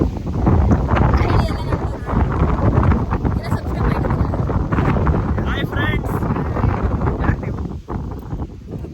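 Strong wind buffets the microphone in a constant roaring rumble, with voices talking faintly underneath.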